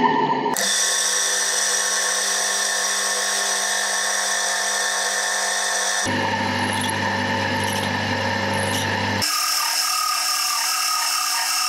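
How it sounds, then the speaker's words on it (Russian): A drill boring a hole in a small piece of aluminium: a continuous close, loud mechanical whine that shifts pitch abruptly twice, with no talking. "Шматочек алюминия. Просверлим отверстие"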